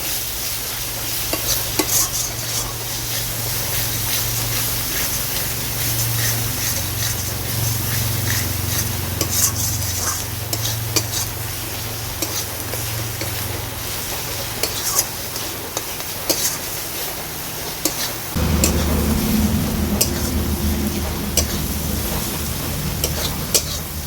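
Spice masala of cumin, coriander and Kashmiri chilli powder stir-fried in oil for a katla fish curry, a continuous loud sizzle with repeated spatula scrapes and taps against the pan, no voices.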